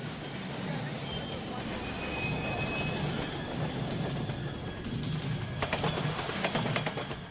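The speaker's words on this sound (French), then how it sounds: "le fameux métro new-yorkais" A New York City subway train rumbles along steadily with a dense metallic roar and faint high wheel squeals, close and continuous throughout.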